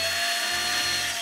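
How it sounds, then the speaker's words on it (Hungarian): A power drill runs steadily and loudly, its motor whine dipping briefly as load changes, likely boring into a bottle cork for a rubber-glove bagpipe craft; no talk. "Hogyha egészen stabilra szeretnétek menni, akkor lehet használni a fúrót."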